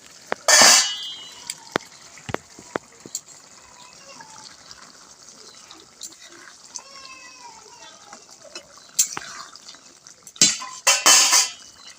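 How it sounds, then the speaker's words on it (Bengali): A metal pot lid clanks open and sun-dried lentil bori and fish are tipped into a green tomato curry. Sharp clatters and scrapes of pots and utensils come in bursts, and a cat meows faintly in between. "এবার আমি ঢাকনাটা খুলে বড়ি আর মাছগুলো দিয়ে দেব।"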